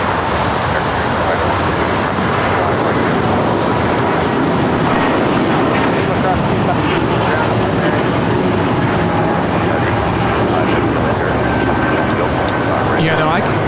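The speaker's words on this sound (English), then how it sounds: "Stuart Porter of the E2 taking off here on the south side." A Porter Airlines Embraer E2 jet takes off from the south side at LAX, a broad, steady engine roar heard from a distance, with airport ambience throughout.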